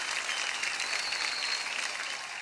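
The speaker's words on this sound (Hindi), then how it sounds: "एक बार जोरदार तालियां होनी चाहिए फॉर मनोज मुंतशिर" Enthusiastic applause from a live audience for lyricist Manoj Muntashir, a dense steady roar of clapping filling the whole stretch with no voices above it.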